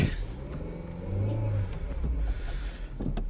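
A 1999 Ford Fiesta that stalls when cold idles and pulls away in traffic, its engine note rising and falling in a low steady rumble with a brief rev in the middle, heard from inside the car.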